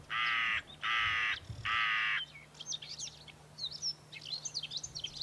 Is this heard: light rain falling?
no